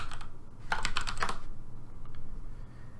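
Short burst of keystrokes on a computer keyboard, a quick cluster of close clicks over a faint steady room hum, no voices.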